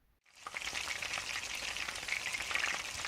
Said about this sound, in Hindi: अब हम जो चिकन पकौड़ा है इसे गोल्डन ब्राउन होने तक इसमें फ्राई करेंगे।